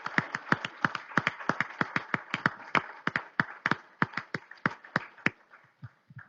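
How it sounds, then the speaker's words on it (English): A small audience at a legislative breakfast gives a short round of applause: sparse, distinct claps in an uneven rhythm, fairly close and moderately loud, thinning out toward the end. "Let's give them a big round of applause for showing up"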